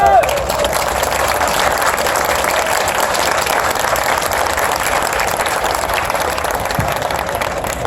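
Sustained, even applause from an audience fills the air after a kendo demonstration by the Nashville Kendo Club at the 2017 Nashville Cherry Blossom Festival, a continuous wash of many hands clapping at steady loudness throughout.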